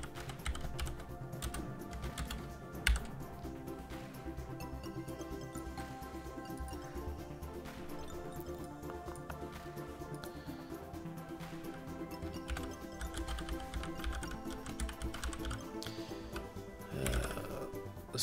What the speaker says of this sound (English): I am typing it just as it appears on the tutorial